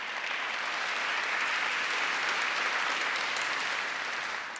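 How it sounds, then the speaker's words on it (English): A large audience at the Hamburg Sustainability Conference gives a sustained, even round of applause, dense and steady throughout before easing slightly at the end. "Let's give them a round of applause."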